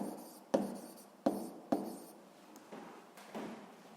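A pen writes physics notes by hand in a quiet room, giving soft scratchy strokes with several sharp taps as the tip meets the paper, near and faint, with no voices.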